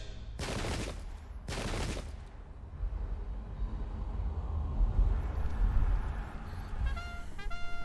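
Musket volleys crack out twice in quick succession in the Pike and Shot video game, loud and sharp, followed by a sustained low battle rumble and faint tinkling interface tones.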